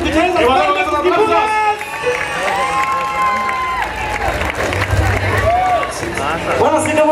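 A concert audience at a live show claps and cheers loudly, a dense continuous wash of crowd noise with voices shouting and talking over it.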